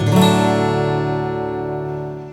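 A 3D printed acoustic guitar with printed top, a single strummed chord ringing out clearly and close, decaying smoothly over two seconds with no talk.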